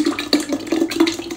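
Water pours into a jug for a mango smoothie in a short, close, gurgling splash that rises and falls in uneven bursts, loud and with no talk.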